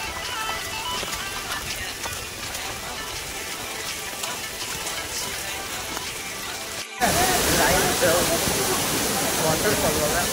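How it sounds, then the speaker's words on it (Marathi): Rushing water from a monsoon hillside waterfall near a temple gives a continuous broadband roar that turns suddenly louder and nearer partway through, with voices faintly mixed in. "वॉटरफॉल"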